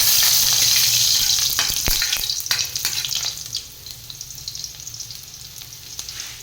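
Garlic hits a hot pan with a loud sizzle that gradually fades to a softer crackle, with several sharp scrapes and taps of stirring along the way.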